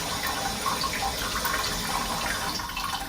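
Tap water runs steadily to cool a burned hand, a loud continuous splashing and hissing stream that holds constant throughout, with no one talking.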